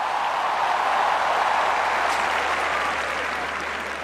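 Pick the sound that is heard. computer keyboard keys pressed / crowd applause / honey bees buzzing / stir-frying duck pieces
crowd applause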